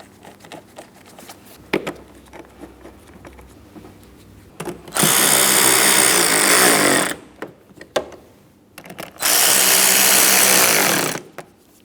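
A power tool tightens the mounting bolts on a 2003-2007 Cadillac CTS 3.6L V6 in two loud, sustained whirring bursts of about two seconds each, with scattered clicks and handling noises between them.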